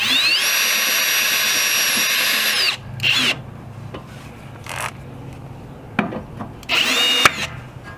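A power drill whines steadily as it drives a self-tapping screw into a Jeep Wrangler flat fender, then stops; a few clicks and rattles follow before a second short burst of drilling.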